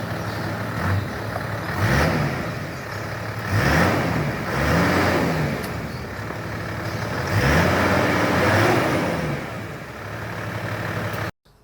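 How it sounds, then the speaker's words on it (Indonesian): Engine of a 1997 Toyota Land Cruiser 80 Series VXR modified for overlanding, idling and then revved several times in repeated swells, heard up close with no talking. "Langsung aja kita akan dengerin suara mesinnya."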